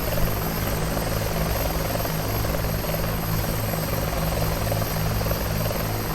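A Bell 412 helicopter landing near parked aircraft in the flight simulator X-Plane 11 produces a loud, constant rotor drone with a steady whine and a pulsing low throb, and no voices.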